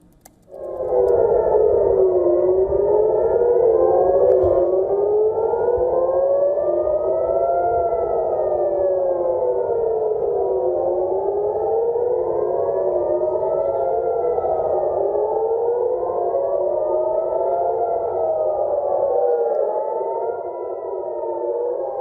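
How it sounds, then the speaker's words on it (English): Air raid sirens wail across central Israel during a missile interception, several overlapping rising and falling tones sounding loud and steady for the whole stretch with no talking. "the Israeli army said sirens were sounded across central Israel as it intercepted a missile fired from Yemen"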